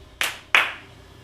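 Two sharp, close hand claps about a third of a second apart, each ringing briefly in a quiet room, made to trigger a Clapper light switch.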